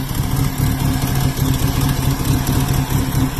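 A Ford Mustang SVO engine runs steadily after its first startup on a new engine harness, a loud, continuous low idle rumble with no pauses.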